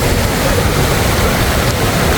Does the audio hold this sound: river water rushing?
yes